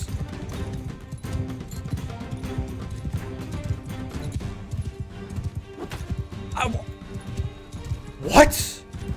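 Hooves clop in a rapid gallop in a medieval video game, a steady fast rhythm of close thuds beneath background music, with a sharp crash and a horse whinny near the end while someone shouts over it.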